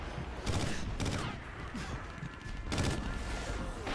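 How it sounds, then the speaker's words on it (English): Three-round burst rifle firing in the Call of Duty Ghosts video game, several quick bursts of rapid cracks in sharp groups, with other game sounds under them. "It's a 3-round burst"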